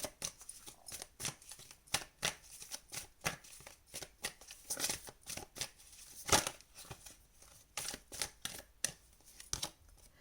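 Playing cards shuffled repeatedly for a tarot-style card reading, a run of crisp riffling bursts and slaps close to the microphone with short pauses between shuffles, no talking.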